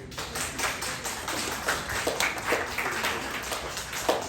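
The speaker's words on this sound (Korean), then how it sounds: "하영 형제가 귀한 헌신을 너무 해주셔가지고 또 이렇게 한번 박수." Scattered applause from a church youth congregation at a Sunday service, a dense patter of claps holding steady at moderate distance for several seconds with no voices over it.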